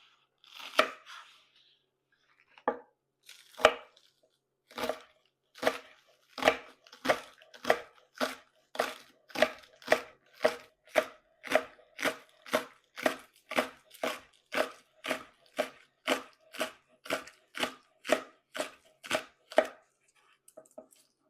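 Three scallions chopped with a knife on a cutting board, crisp close thuds that begin sparse and then settle into a fast, even rhythm of around twenty-five strokes.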